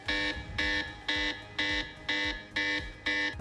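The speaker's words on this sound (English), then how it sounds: "We got an alarm bell." A Doogee phone sounds an alarm-bell tone in seven loud, evenly spaced pulses, each a bright, ringing beep. The pulses repeat at a steady rhythm with no talking.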